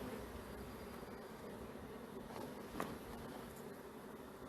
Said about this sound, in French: ces petites abeilles, elles cherchent leur reine